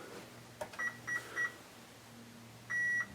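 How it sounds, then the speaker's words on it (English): Motor controllers for a Star Wars R6 droid built with Arduino sounding their startup tones: three short electronic beeps followed by a longer beep, clear and close over a quiet electrical hum. "each one gives me those 3 beeps and a long beep, which tells me they're happy"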